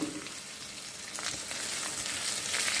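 Beef strips and dried chilies stir-frying over medium heat in a hot pan: a steady, close sizzle with scraping stirs, loud and with no voices over it.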